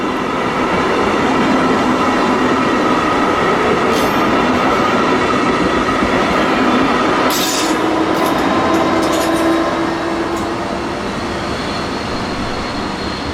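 A Brightline high-speed passenger train rushes by close at hand on Florida's FEC line, a loud continuous roar with wheel noise and brief hissing bursts along the rails.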